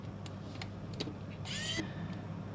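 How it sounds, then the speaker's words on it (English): A small electric screwdriver whirs briefly for about a third of a second while working on the screws of a 1/64 scale 2009 Subaru WRX STI diecast model, amid faint handling clicks. "let me get that electric screwdriver again"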